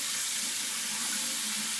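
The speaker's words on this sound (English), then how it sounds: "that too much water or just right?" Tap water running steadily into a sink while hands are washed, a soft continuous hiss and splash at close range with no talking.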